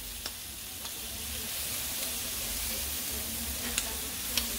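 Shrimp cook on a griddle with a continuous broad sizzle and hiss, close and steady, marked by a few faint ticks and taps.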